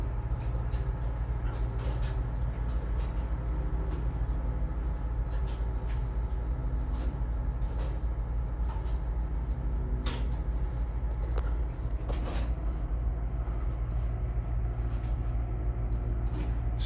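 An FEC intermodal freight train with several diesel locomotives rolls across a bridge in St. Augustine, Florida, giving a steady loud rumble and drone throughout with occasional metallic clanks and squeals.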